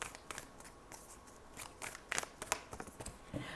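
Moonology oracle cards being shuffled by hand: quick papery riffles and soft slaps in uneven bursts, close and fairly quiet, with no talking.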